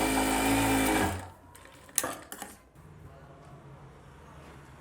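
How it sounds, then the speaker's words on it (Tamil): A sewing machine stitches an edge seam on a blouse, a close, rapid mechanical whir lasting about a second before stopping, followed by faint clicks and fabric handling. "வெளிப்பக்கம் போட்டு அடிச்சுட்டு அது மேலே ஒரு எஜ்ஜு தையல் போட்டுக்கோங்க."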